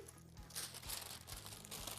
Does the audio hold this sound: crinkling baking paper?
yes